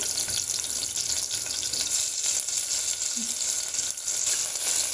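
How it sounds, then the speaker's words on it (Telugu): Ginger and garlic frying in oil make a constant, dense hiss of sizzling close by, fairly loud and uninterrupted for the whole stretch, with no talking. "ఇప్పుడు జింజరు, అల్లము, వెల్లుల్లి వేస్తున్నామండి."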